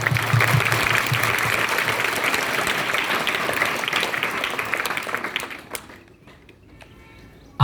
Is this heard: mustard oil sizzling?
no